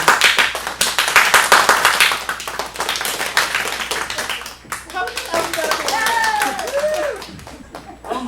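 An audience in an improv studio claps to vote during a scene, brisk scattered applause early on that thins out as people start talking and laughing over it.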